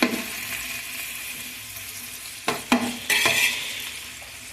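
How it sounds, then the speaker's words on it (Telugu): Onions frying in a large pot of rice pulao, heard as a soft continuous sizzle, with a few sharp stirring scrapes and clanks near the end. "చూడండి ఉల్లిపాయలు వేగుతున్నాయి కదా."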